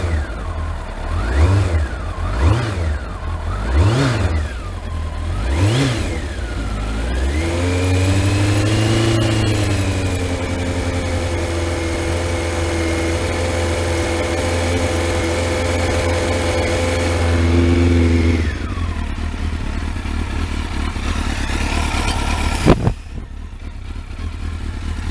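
A Kawasaki ZX12R motorcycle engine runs after its first start-up in twelve months, loud and close, with several quick throttle blips and then a sustained higher rev held for about ten seconds before it drops back to a rough idle.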